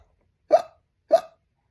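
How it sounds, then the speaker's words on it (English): Two sharp hiccups, spaced about half a second apart, sound close and alone with no talk around them; the source is a cartoon skeleton character. "He had the hiccups."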